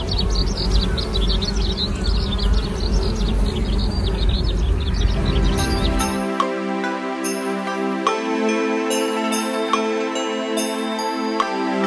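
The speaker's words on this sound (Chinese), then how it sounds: "大家仔细听，有没有听见蜜蜂嗡嗡的小声音？" Bees buzz among lavender flowers, a dense, close, continuous hum for about six seconds, before gentle instrumental music takes over.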